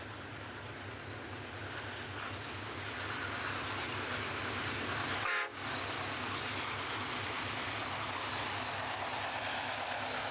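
Massive diesel locomotives, among the most powerful in Australia, haul long heavy trains across the Pilbara, giving a steady, distant, low rumbling drone with one brief sharp click partway through.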